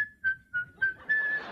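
A single person whistles a short, cheerful tune as if while working, a few bright rising and falling notes in quick phrases, with a comedian imitating the sound on a stand-up stage and faint audience rumble beneath.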